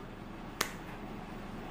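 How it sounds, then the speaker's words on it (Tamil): A single sharp finger snap, crisp and close, standing out once against a quiet room background. "சொடக்கு போடு"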